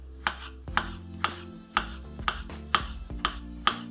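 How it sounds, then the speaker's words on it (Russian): A knife chopping cucumber into small cubes on a cutting board, steady sharp taps roughly every half second, close and clear with a faint background hum and no speech. "Не очень крупно нарежем огурец."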